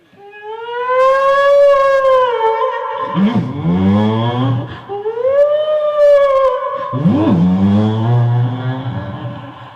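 A loud wailing siren rises and falls in long sweeps, twice, with a vehicle engine revving underneath between the wails.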